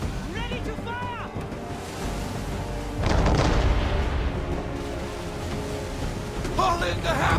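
Heavy booms of a sailing ship's cannon broadside in Assassin's Creed III, at sea with wind and waves, the deep blasts rolling in amid shouted crew voices.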